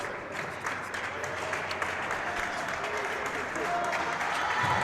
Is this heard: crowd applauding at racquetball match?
yes